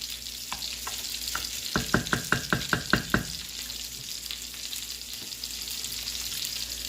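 Balsamic and jam glaze for pork chops sits on a burner, giving a steady low sizzle and hiss. Partway through comes a quick burst of about ten sharp metallic knocks, and there is no speech.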